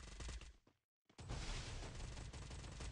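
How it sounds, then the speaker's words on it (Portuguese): Rapid gunfire from the video game Free Fire, loud bursts of shots that cut out briefly into silence, then resume as a dense, continuous volley. "Dá um tiro mesmo."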